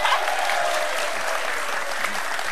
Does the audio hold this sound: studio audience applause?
yes